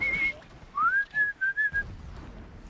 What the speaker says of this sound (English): I can also whistle.